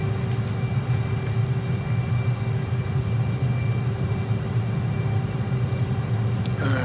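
Twin jet engines of an A-10C Thunderbolt II in a flight simulator game, a steady loud droning rumble with a constant whine above it, running evenly throughout without any talk.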